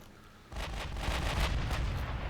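Naval guns firing from dreadnought battleships in a warship strategy game, Spanish campaign: after a quiet half-second a loud, dense rumble of repeated broadband blasts rolls on, overlapping salvos booming close and steady with no voices.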